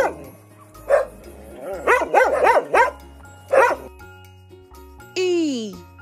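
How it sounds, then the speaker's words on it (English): A dog barks and yips in a quick series of sharp, close calls, then lets out a higher drawn-out whine, with a steady background tune running underneath. "D for dog."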